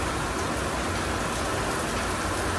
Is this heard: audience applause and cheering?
no